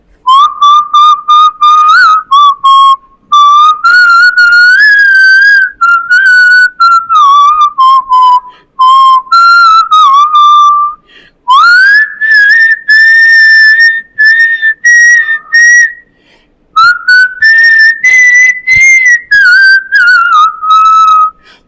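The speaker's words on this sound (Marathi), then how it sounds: "मी शिट्टीतून गाणं म्हणून दाखवणार" A person whistles a song solo, loud and close, in clear melodic phrases with pitch slides and brief pauses between lines, with no other sounds.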